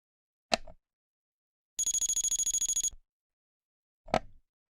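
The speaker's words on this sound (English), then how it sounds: "To select a different tone, press and hold buttons 1 and 3 simultaneously." A short electronic alarm tone from a MedELert automatic pill dispenser plays as a rapid run of pulsing beeps, framed by two single clicks before and after.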